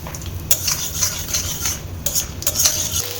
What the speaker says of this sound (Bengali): দেখো সবজিগুলো ভালো করে ফ্রাই করে নিয়েছি